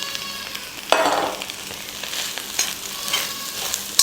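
Cooked rice tumbles into a sizzling pan of cumin and egg and is stirred through, a constant close fry hiss broken by spoon scrapes and soft thuds, with no speech.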